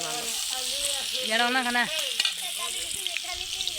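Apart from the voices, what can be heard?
egg and onion frying in a pan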